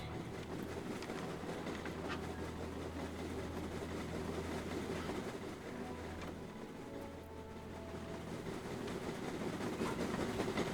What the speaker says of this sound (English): there are our trains driving along the entire island